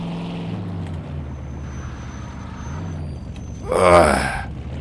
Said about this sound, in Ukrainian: Ого, як вона шліфує